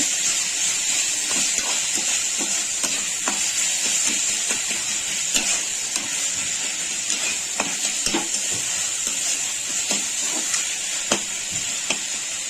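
Tomatoes with onion and a little salt cooking in a pan for a dry chicken dish, giving a steady sizzle and hiss with faint stirring clicks throughout.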